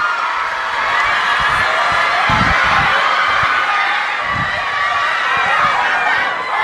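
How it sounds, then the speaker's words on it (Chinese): A large audience at an Honor 90 series phone launch event cheers and applauds for Yang Yang, with a dense, loud, continuous crowd roar and scattered shouts throughout. "我们也掌声再一次送给杨洋"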